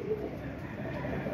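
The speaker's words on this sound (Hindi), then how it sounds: "वो देखें वो कबूतर घूम रहा है" Pigeons cooing by a loft, a soft low coo rising briefly near the start over a steady murmur of ambient noise and distant bird sounds.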